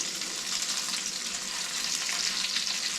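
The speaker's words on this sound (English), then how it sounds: "sound of frying meat" Meatballs frying in a pan, a steady, dense sizzle with fine crackling spatter that holds evenly and fairly close throughout, with no talking.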